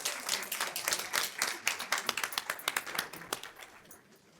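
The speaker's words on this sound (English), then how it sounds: "Give it up for the principals." Audience at a school board meeting claps for principals, a dense burst of hand claps that thins to scattered individual claps as it fades.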